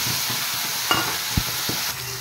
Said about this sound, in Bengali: এবার মশলাটা ফ্রাই করে নিই।